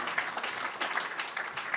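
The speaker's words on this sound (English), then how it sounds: "Let me give one round of applause for Ambassador Shapiro" Audience applause for an ambassador taking the stage at a Korea Society security and diplomacy event in Atlanta, a dense, steady wash of clapping from a crowd lasting under two seconds.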